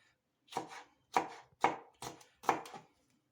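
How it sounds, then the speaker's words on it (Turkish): Five sharp knife strokes on a cutting board, evenly spaced and close, with quiet gaps between each chop. "İnce ince ben bunları böyle doğruyorum."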